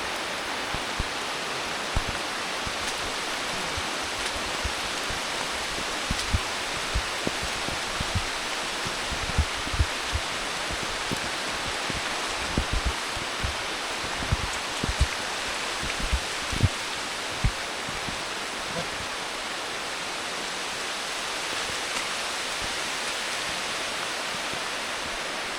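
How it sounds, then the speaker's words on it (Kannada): Steady monsoon rain pours through a forest on a trek between paddy fields, a dense unbroken hiss with scattered heavier drops and patters, no voices, constant and close throughout. "ಬೆಳಗ್ಗೆಯಿಂದ ಕಂಟಿನ್ಯೂಸ್ ಆಗಿ ಮಳೆ ಹುಯ್ತಾನೇ ಇದೆ"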